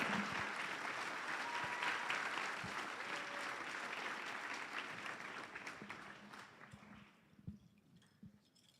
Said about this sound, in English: Please give a round of applause to our Leadership Award recipients for 2025.